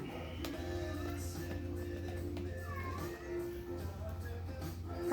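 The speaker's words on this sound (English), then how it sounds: "Pardon my cat." An indoor cat gives a short, faint meow partway through, over a low steady hum and occasional light tapping and handling noises.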